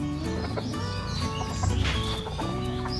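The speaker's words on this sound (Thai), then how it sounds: "พ่อพันธุ์ตัวสีขาวเนี่ยคอเขาจะดัง คอกคอกคอกคอกอยู่นะครับ" A white breeding rooster with a cold, made hoarse by damp weather, gives rattling, clucking throat sounds, close and moderately loud over steady farmyard background noise.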